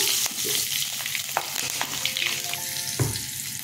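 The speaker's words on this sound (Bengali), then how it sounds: "এই তেলেই কাঁচা লঙ্কা ফোড়নে দিলাম, কালো জিরে দিলাম" Green chillies and nigella seeds hit hot oil for tempering, a loud close sizzle and crackle with spoon stirring clinks and scrapes, continuing briefly alone as the spices fry.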